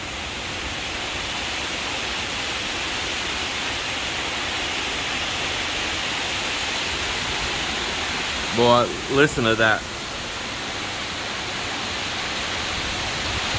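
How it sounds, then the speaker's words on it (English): Strong storm wind roars as a steady, loud broadband rush around a sheltered coastal yard, with a brief spoken remark over it partway through. "the wind is getting in here right now"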